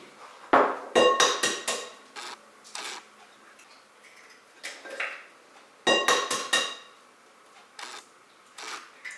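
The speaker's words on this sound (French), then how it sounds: "on va prendre nos 3 œufs qu'on va venir casser dans notre bol" Three eggs cracked one after another against a bowl while making a honey and dried-fruit cake, giving sharp close taps and shell cracks in several bursts with quiet gaps between.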